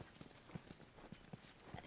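Horse hooves clip-clop in The Last of Us video game, a quiet, irregular run of soft hoof strikes at a walking pace, heard alone.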